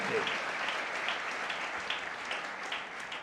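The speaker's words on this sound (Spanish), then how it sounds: "Ese aplauso es digno." A church congregation claps together in a sustained, dense round of applause, steady and fairly loud throughout.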